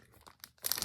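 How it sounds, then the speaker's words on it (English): Plastic packaging around a cross stitch pattern crinkles briefly at close range, soft rustles at first and then a sharper burst of crackling at the end. "y'all just going to have to excuse the crinkling"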